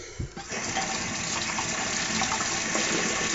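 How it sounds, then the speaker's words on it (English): Water poured from a tap onto a shaving soap puck wedged firmly in its container, a steady close splashing gush that runs continuously after a brief knock at the start. "I'm going to put some water on top of the puck and let it set for a minute"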